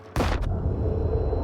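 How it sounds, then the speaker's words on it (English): A grenade bursts in the shooter game S.T.A.L.K.E.R. 2: Heart of Chornobyl, one sudden loud close blast whose heavy low rumble carries on after a quick second crack. "Oh, that's a grenade, wow."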